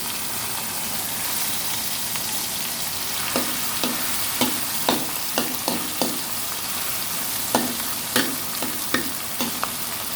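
Panakot aromatics fry and sizzle steadily in hot oil while being stirred, with a continuous hiss broken by a series of crisp spatula scrapes and taps against the pan.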